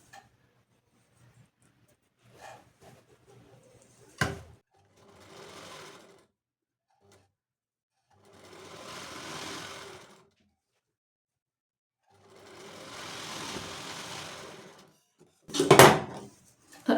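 Domestic sewing machine stitching a blouse sleeve: short runs of steady whirring stitches, about four bursts separated by pauses, with a few sharp clicks and knocks from handling, fairly close and with no talk over it.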